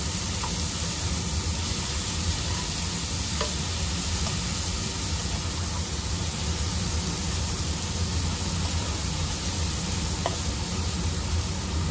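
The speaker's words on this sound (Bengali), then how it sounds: "এটা আমি ভালো করে ভেজে নেব" Chopped onion and tomato frying in a pan for a restaurant-style country chicken curry, a steady close sizzle with occasional stirring scrapes throughout, no talking.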